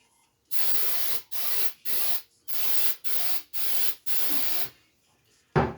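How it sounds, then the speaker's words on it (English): Six short, sharp aerosol bursts of glue activator spray hiss close by in an even rhythm, each lasting about half a second, separated by brief pauses, on wood for a mitre sled. "Then I will spray some activator."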